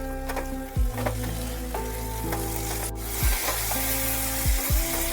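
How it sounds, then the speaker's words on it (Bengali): Tomato paste sizzling steadily in a hot pan while cooking a traditional Bengali vegetarian chhana (cottage cheese) curry, with a few dull stirring knocks and scrapes breaking through the continuous frying hiss. "একটা বড় দেখে টমেটো পেস্ট করে রেখেছিলাম সেটা দিয়ে দিচ্ছি"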